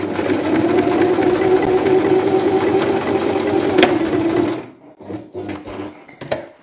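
A sewing machine runs steadily while stitching a short side seam on a scrunchie, a loud continuous mechanical whir for several seconds, then it stops and leaves only faint handling noises of the fabric.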